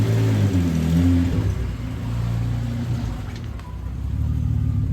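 A 500HP Vauxhall Adam VXR with a V6 engine drives off with a deep, loud engine rumble that shifts in pitch as it revs and settles, continuous throughout.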